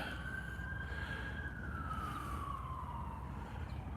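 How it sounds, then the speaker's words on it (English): A distant siren wails in a slow rising and falling tone over a low rumble of traffic in Cleveland's Midtown neighborhood, faint and steady throughout. "Lots of sirens."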